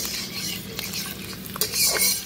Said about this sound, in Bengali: একটু রসুন কুচিটা একটু ভাজা ভাজা হয়ে গেছে